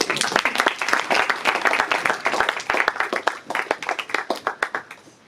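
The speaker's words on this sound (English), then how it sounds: "So let's give your parents a round of applause." A crowd at a high school varsity baseball seniors night applauds the players' parents, a dense burst of clapping that thins out into scattered claps toward the end.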